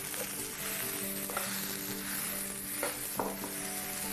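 Chicken fried rice sizzles steadily in a pan, a continuous close frying hiss with a few soft stirring knocks and scrapes scattered through it, no voices.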